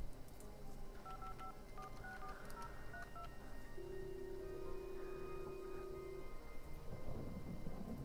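Telephone dialing in the game Supercontinent LTD: a quick run of beeping keypad tones followed by a long steady ringing tone, set against a low rumbling storm-like background with rain.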